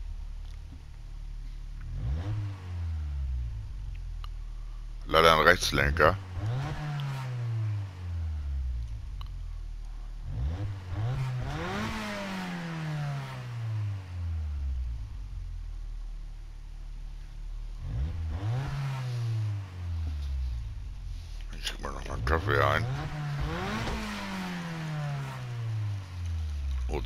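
Ford Sierra RS Cosworth in Gran Turismo 7, its engine revved repeatedly in sharp bursts that climb and fall back to idle, with a brief crackling burst near the start and occasional speech over the steady idle.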